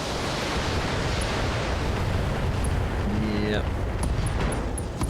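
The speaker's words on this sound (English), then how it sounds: "we'll sandpaper it with long-range missiles" Long-range missile barrage exploding in the BattleTech game, a dense continuous roar of blasts and rumble filling the whole stretch at high volume, with a brief voice cutting in near the middle.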